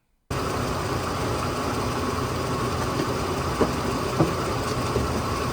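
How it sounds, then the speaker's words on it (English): A van engine idles steadily with a rough, constant drone and a few brief clunks, the kind of noise suspected to come from a transmission issue. It is loud and continuous after a short silent start, with no talking. "our buddy Chrome, he has some wacky noises in his van. And I don't know. I'm no expert, but it sounds like there may be a transmission issue"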